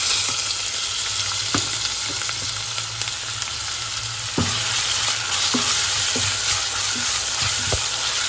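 Chopped onion and carrot frying in olive oil in a pan, a steady close sizzle broken by several sharp stirring scrapes and clicks, with no voices.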